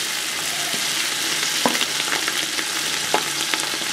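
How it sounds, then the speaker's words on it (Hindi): Green chillies frying in oil in a pan for aloo pulao, a dense continuous sizzle with a few soft clicks of stirring, close and without talk. "अच्छे तरीके से फ्राई करेंगे।"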